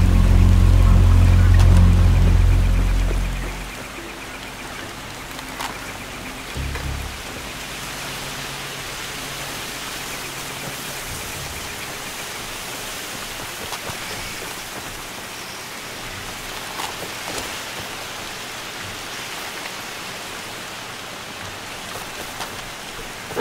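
Heavy rain pours in the video game Far Cry 2, a steady broadband hiss that carries on evenly after a loud low rumble fades in the first few seconds, with no voices.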